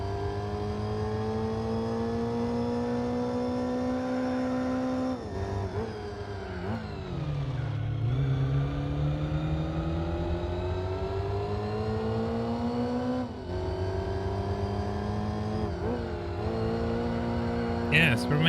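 A car engine revs in Gran Turismo 4 while chasing a yellow Miata, a steady engine drone rising in pitch through the gears with brief dips at shifts, loud and continuous throughout.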